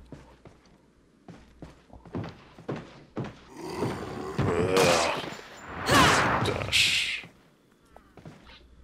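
Gunfire in the video game Resident Evil 4: a handful of sharp, separate shots at the start, then a longer noisy stretch of heavier gunfire and commotion in the middle, close and fairly loud.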